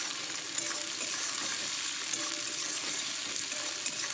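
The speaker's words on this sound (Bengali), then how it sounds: "পেঁয়াজটা একটু ভালো করে তেলে ভেজে নেব" Chopped onion and tomato frying in oil in a pan, a steady close sizzle with faint occasional stirring ticks and no voices.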